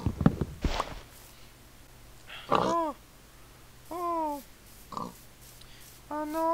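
Pigs grunt and squeal in a video game, several short harmonic calls spaced apart over a steady low hum, with an earlier burst of clattering.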